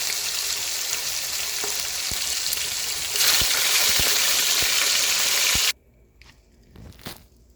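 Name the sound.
chicken frying in a pan for brown stew chicken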